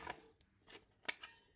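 A handheld craft punch cutting shapes out of paper for a card, several sharp crisp clicks and snaps spaced apart, close and quiet with no talking.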